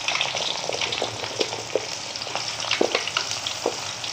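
Shallots frying in oil after candlenuts for sambal pecel lele, a steady crackling sizzle with scattered sharper pops and light stirring, close and without talk.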